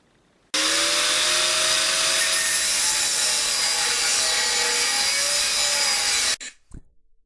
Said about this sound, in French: Ponçage de la peinture et de la pellicule supérieure de l'aluminium.